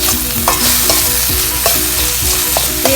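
Spiced masala with garam masala and pepper frying for a yam curry, loud close sizzling under repeated rhythmic scraping and stirring strokes against the pan.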